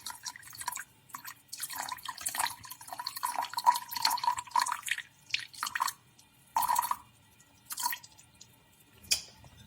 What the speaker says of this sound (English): we're going to pour in 200 grams of water